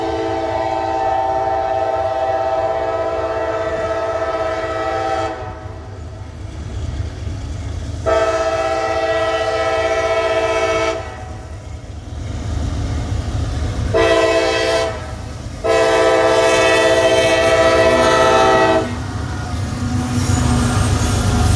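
A freight train rolling through the Roberts Road crossing in Arrington, Tennessee sounds its horn in four loud sustained blasts, two long and two shorter, over a continuous low rumble of passing cars.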